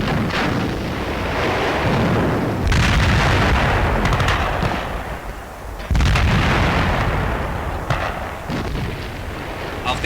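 Heavy wartime gunfire and artillery on the Eastern Front in 1943, loud, continuous bursts and booms with sharp cracks rolling through the whole stretch.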